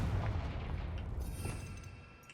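A Confringo blasting spell explodes in Hogwarts Legacy, a deep rumbling boom that hits at once and slowly fades over about two seconds, alone with no talk.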